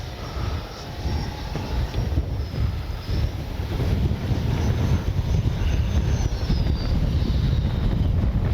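Strong wind buffeting the microphone outdoors at a flying field during an RC L-39 jet flight, a constant roaring rumble that fills the whole stretch with no pauses and no talk.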